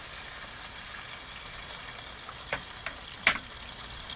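Tomatoes drop into hot oil with sautéed garlic, giving a soft, steady sizzle with a few small pops and splatters, fairly quiet and with no voices.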